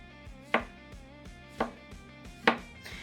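A knife chops white onion on a board in three distinct, evenly spaced knocks, close and moderately loud over a low background hum, with no talking.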